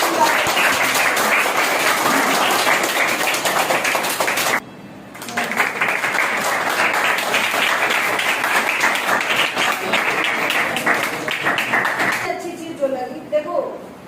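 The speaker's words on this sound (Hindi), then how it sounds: "तो एक बार ताली हो जाए।" An audience at an Independence Day celebration applauds a child's dance with dense, steady clapping, briefly dropping off near five seconds before resuming at full strength and fading at the end.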